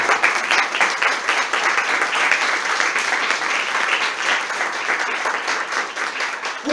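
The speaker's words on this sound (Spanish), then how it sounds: "Dame una ofrenda de palmas." A church congregation applauding during a Sunday sermon, dense sustained clapping from many hands filling the room evenly for several seconds, no speech over it.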